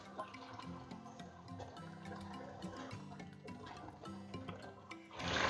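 Water poured into a pan of fried mutton with garlic-ginger paste and spices for a chana dal gosht dish, a brief gushing splash near the end after quieter kitchen sounds.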